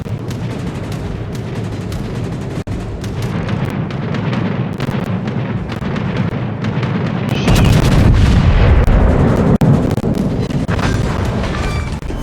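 Main guns of a Tier VIII Soviet battleship, Lenin, in World of Warships thunder in heavy booming salvos over a continuous rumbling battle din, growing louder and denser partway through.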